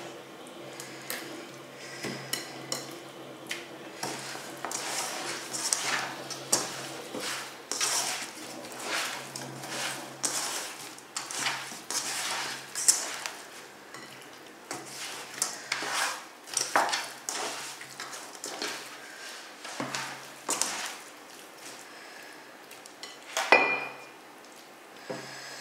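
Chicken pieces are stirred with soy sauce in a bowl for yassa, making repeated wet clacks and scrapes of the utensil against the bowl in an uneven rhythm, close and fairly loud, with no talking.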